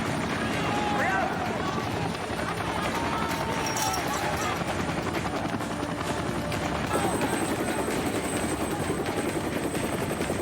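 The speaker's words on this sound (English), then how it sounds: "Take the chopper." A helicopter runs steadily and loudly throughout, its rotor drone continuous, with frantic voices and hurried movement over it.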